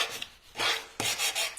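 Close, raspy hand sanding on a wooden caddy box: two short rubbing strokes, the second broken into quick scrubbing passes.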